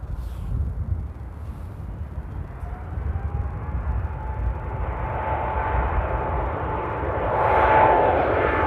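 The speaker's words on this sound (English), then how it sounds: "now it is time for Air Canada Dreamliner in the old livery. Oh, go around." An Air Canada Boeing Dreamliner in the old livery performs a go-around at Amsterdam Airport, its jet engines a steady roar with a rising whine that swells louder as it nears.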